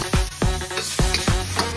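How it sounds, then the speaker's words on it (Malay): Char kuey teow flat rice noodles stir-fried with bean sprouts and chives in a hot pan, with a sharp scrape or clang about every half second over a constant sizzle. "Ikut cara goreng yang Richard tunjuk ni, kuih tiaw tidak senang untuk putus."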